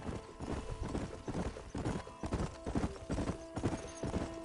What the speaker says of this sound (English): Gotta ride my horse a little better.